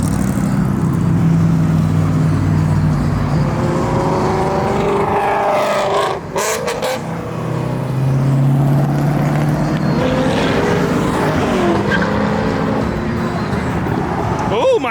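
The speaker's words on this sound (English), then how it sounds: "we got a G-body on a nice little tire. Little Grand National" A Buick Grand National G-body car on small tires passes at a car show, its engine rumble and revving rising and falling amid crowd noise and voices, loud and close throughout.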